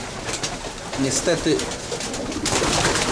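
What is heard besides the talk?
pigeons being chased off a roof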